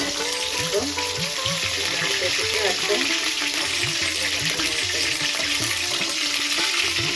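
Brinjal pieces for a curry sizzle and crackle steadily in hot oil in a pan, close and continuous, with a person speaking over the frying.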